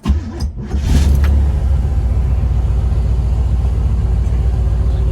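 A fuel-injected 1968 El Camino engine cranks briefly, catches with a loud burst, then settles into a steady, deep, rumbling idle close to the microphone.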